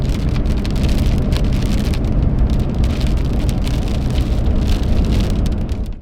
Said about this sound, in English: Oh, there comes the rain again.